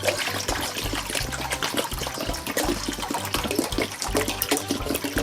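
About 1 to 1.5 litres of water pours into a pot for red banana in syrup, a steady splashing, gurgling stream that runs continuously at close range.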